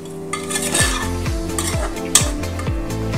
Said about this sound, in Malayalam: സവാളയും തക്കാളിയും ഒക്കെ മൂത്ത് വരുന്നുണ്ട്.